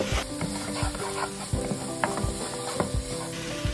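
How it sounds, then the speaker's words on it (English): Sauce being stirred in a pan with thyme added, spoon scraping and clinking in a steady rhythm of repeated strokes over a soft background sizzle, close and moderately loud, no voices. "And now, just give it a quick stir."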